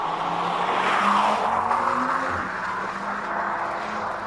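An Audi RS Q3 rated at 500 kilowatts charges up a hillclimb course, its engine a loud, steady drone whose pitch rises and falls as it pulls through the run, with no voices over it.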